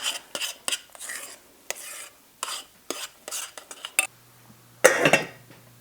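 A spoon stirs and scrapes through meatloaf ingredients in a bowl after boiling water is added, giving a series of short, close scraping clatters with brief pauses between them.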